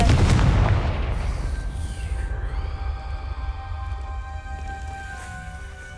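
A Confringo spell explodes in Hogwarts Legacy with a loud, close boom at the start, followed by a long, fading rumble and a lingering shimmering ring that dies away over several seconds.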